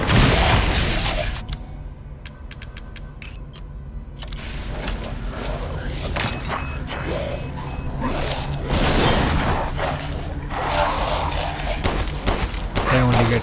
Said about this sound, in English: the rate of fire in this handgun is pretty sweet